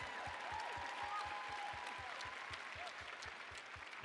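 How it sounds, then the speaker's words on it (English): An audience at a talk event claps steadily, the applause sustained and fairly even throughout, heard from a distance with a faint tonal hum in the room. "Let's give another round of applause for Shilpa."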